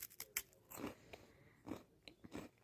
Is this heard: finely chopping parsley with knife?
no